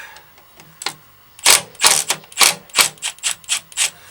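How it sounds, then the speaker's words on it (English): A ratchet wrench loosens the three 13mm nuts on the fuel pump sprocket of a VW Transporter T4 engine. It makes loud, close, rapid clicking bursts in a quick irregular series, with no voices. "crack off the 3 13mm nuts holding the sprocket onto the fuel pump"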